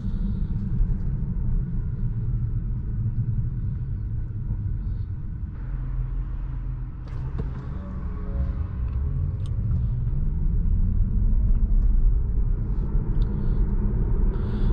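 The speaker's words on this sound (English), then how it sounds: "And the electric motor, it actually does make a fair amount of noise" A continuous low electric motor hum and road rumble fill the cabin of a 2019 Tesla Model 3 Performance while driving, with a faint rising whine shifting in pitch partway through.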